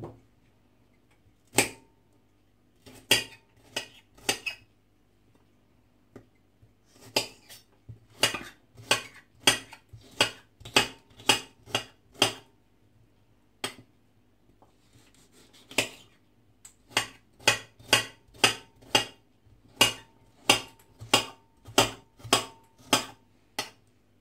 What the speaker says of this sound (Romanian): Voi tăia și ardeiul, ardeiul gras. Voi tăia și pe acesta mărunt.